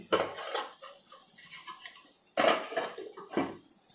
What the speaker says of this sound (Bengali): ঢাকনা খুলে দেখি এবার কতটা হয়েছে